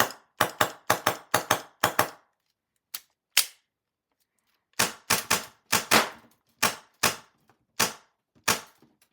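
An MTW-9 airsoft rifle fires shots through a chronograph, a sharp close crack repeated in quick runs and single shots with short silences between.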